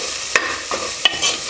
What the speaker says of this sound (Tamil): இதை சேர்த்துட்டு ஒரு டைம் நல்லா மிக்ஸ் பண்ணி விட்டுடலாம்.